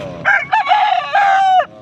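A rooster crows loudly and close by, one full drawn-out call of several rising and falling notes.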